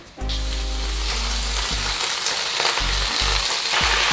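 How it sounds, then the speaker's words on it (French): Spinach dropped into a very hot pan with a little olive oil, erupting into a loud, steady, close sizzle that holds throughout, with a low hum underneath and no talking. "on va faire tomber nos épinards avec un petit peu d'huile d'olive dans une poêle bien chaude"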